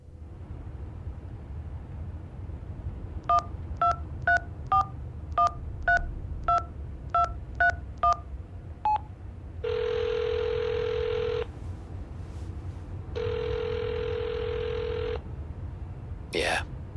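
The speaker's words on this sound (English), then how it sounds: "let's call the number" In the mystery video game Hitchhiker, a phone keypad beeps through about eleven quick dialing tones, then two long ringback tones sound, with a voice talking underneath.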